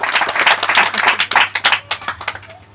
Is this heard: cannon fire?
no